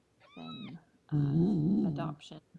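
A cat meows loudly right into a close microphone, one short cry followed by a longer wavering yowl, while someone speaks briefly around it.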